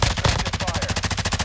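Rapid automatic gunfire in Call of Duty: Warzone 2.0, a loud, close burst of evenly spaced shots that continues throughout.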